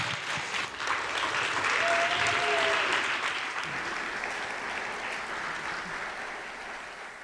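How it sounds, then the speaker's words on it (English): Audience applause at a real estate investing seminar, a sustained dense wash of clapping from a large room crowd, loud at first then gradually easing, with a brief whistle and a few cheers mixed in. "a big round of applause for Jeff Cichocki, please."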